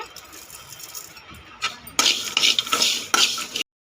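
A spoon scraping and stirring cloves, cardamom, cashews and cumin as they dry roast in a pan, with soft rustling at first and then louder bursts of scraping and clatter that stop abruptly.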